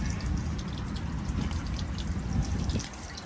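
Water rushing and trickling as an RV gray tank is pulled and flushes out through the drain line, a faint, steady liquid gush with a few drips, no voices.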